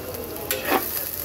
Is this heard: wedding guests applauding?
no